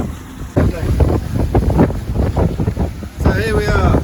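Strong wind of about 25 knots on a sailboat tacking toward Methoni, a steady rushing roar under a person talking nearby throughout.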